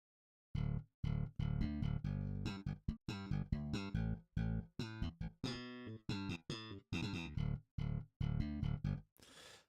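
A synthesized bass line plays a series of short, punchy notes in a steady rhythmic pattern, loud and alone, ending with a brief noisy burst.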